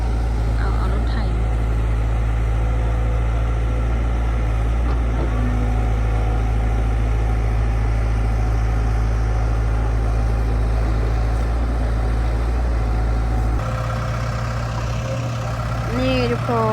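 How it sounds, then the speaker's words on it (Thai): Low, steady diesel drone of a farm tractor working on earth-filling at a pond dig, running continuously close by; the engine note drops toward the end as other faint sounds come through. "เอารถไถ"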